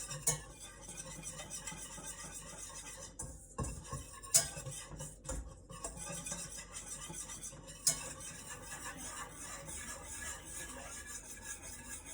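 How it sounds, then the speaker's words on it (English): A whisk stirs flour in a pot for stew until golden brown, giving faint, irregular scrapes and light metallic taps against the pot over a quiet background. "Now that I am finally done whisking the flour stuff"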